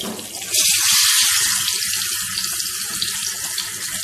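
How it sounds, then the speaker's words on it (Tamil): Red snapper sizzles and crackles loudly on a hot dosa griddle, a steady hissing fry with popping bubbles throughout. "அதனால தான் நம்ம தோசைக்கல்லில் பொரிக்கிறோம்"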